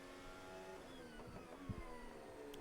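Oscar Piastri's McLaren Formula 1 car approaches the Villeneuve chicane at Imola during practice, its high engine whine rising and shifting in pitch at a distance, fairly faint against a steady trackside background.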